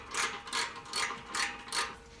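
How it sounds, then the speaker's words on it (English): A ratchet working loose an exhaust bolt on a 2025 Honda Rebel motorcycle, five quick clicking strokes in an even back-and-forth rhythm, close and clear with no talking. "got that bolt loosened"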